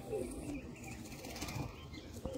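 Pigeons take flight with a soft, continuous flurry of flapping wings, fairly faint and muffled against a constant background hiss.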